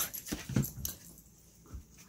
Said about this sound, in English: My dog making all the noise.